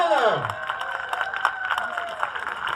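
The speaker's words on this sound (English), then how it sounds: "give them a big round of applause, guys" Crowd applause and cheering at a Little League opening day ceremony, a steady wash of clapping with a few shouts, while an announcer keeps talking over it throughout.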